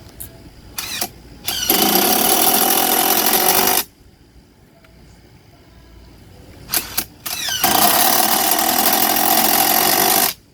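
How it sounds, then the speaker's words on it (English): An impact wrench hammers loudly in two long bursts, each over three seconds, driving 3.5 screws into a wooden shelf in a backyard carpentry setting, with brief starts before each run and a quieter gap between; no talk. "With an impact wrench, what's happening is it's going round and in and out at the same time."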